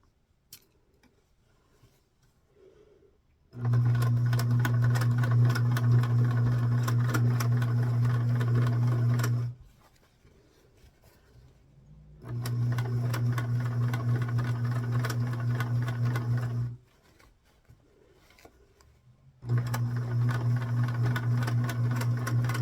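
A sewing machine zigzag-stitches inside a seam allowance on a dress, running in three steady loud humming bursts separated by short quiet pauses.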